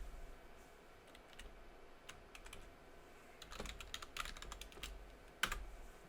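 Quiet, uneven keystrokes tap on a computer keyboard as a terminal command is entered on a Raspberry Pi, the clicks coming in short bursts and growing a little busier toward the end.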